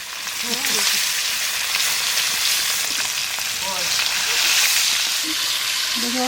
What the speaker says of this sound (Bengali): খুনতি দিয়ে মাছ ভাজা